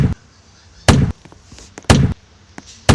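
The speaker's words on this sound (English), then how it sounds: "cannons just explode you back in." Cannons fire in a Sprunkiville cart ride video game, three loud, sharp bursts about a second apart with faint pops between them.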